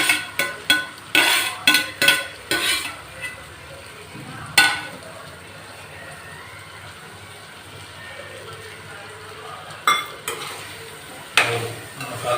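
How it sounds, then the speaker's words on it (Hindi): Aloo gobi matar being stirred and fried in masala over a medium-high flame, with a spoon scraping and clattering against the pan in a quick burst, then a steady soft sizzle with occasional stirring knocks. "और मसाले में मिलाते हुए 2-3 मिनट तक इसे मीडियम हाई फ्लेम पर फ्राई कर लेंगे"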